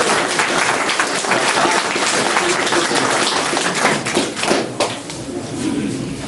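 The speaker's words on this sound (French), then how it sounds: "Profitons-en pour les applaudir" Conference audience claps for a team, a dense, fairly loud wave of applause that continues steadily and begins tapering after about five seconds, with a few louder individual claps and thuds.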